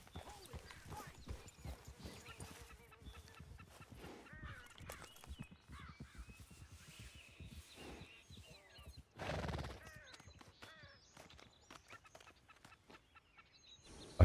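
Horses stampeding in the Red Dead Redemption 2 video game: a dense, fairly faint rush of hoof clatter and thumps, with whinnies and scattered animal calls mixed in, building to a louder burst near the middle.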